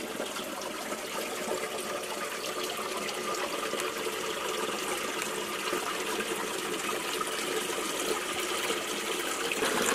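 Water trickles and flows steadily through an underground qanat channel in Iran, a continuous close, even wash of liquid with no voices.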